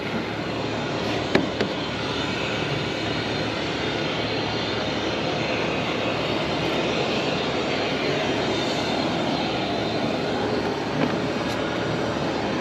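A Pitts aerobatic airplane's propeller engine drones steadily at an even level throughout, with a couple of faint clicks near the start and end.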